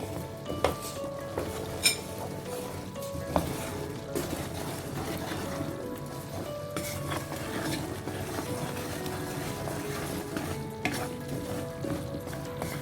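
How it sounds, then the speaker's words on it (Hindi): Shakkar paray cooked in sugar syrup in a pan over a full flame bubble and sizzle steadily, with repeated scraping and clinking of a stirring utensil against the metal pan. "अब मैं इसमें शक्करपारे डाल दूंगी और इसको फुल चूल्हे पे ज़रा पकाऊंगी।"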